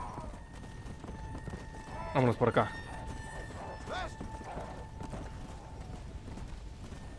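Horse hooves clip-clop at a steady gallop in the Red Dead Redemption: Undead Nightmare video game, quiet beneath someone talking, with a brief whinny partway through.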